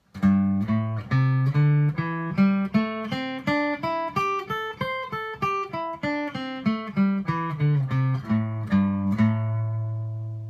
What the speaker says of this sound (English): Your minor pentatonic and drop D sounds like this.